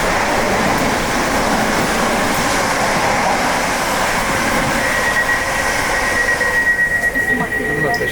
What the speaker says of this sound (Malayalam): This is the train to Liverpool Street.